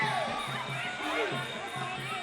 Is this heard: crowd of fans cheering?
yes